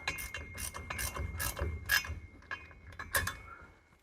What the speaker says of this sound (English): Ratcheting up the drive shaft.